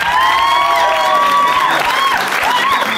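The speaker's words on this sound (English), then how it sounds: "Give them a round of applause." Wedding guests at Neidpath Castle burst into loud, sustained applause and cheering, a dense crowd roar with whoops and high shouts running throughout, close and continuous.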